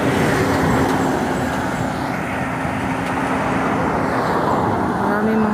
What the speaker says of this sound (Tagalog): Maraming mga truck na dumadaan.